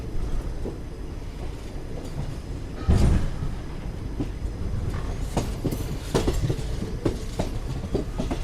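Rolling loudly along near Cherlapalli on the Chennai Central superfast express route, the train gives a constant rumble punctuated by clickety-clack wheel beats and one heavier jolt, heard from inside a coach.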